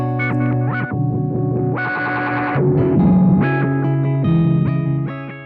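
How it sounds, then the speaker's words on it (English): Beetronics BBD analog delay pedal on a guitar: distorted, chorus-like notes and chords trail off in warbling echoes that pile up, loud and continuous with no talking. "It's their first ever delay pedal."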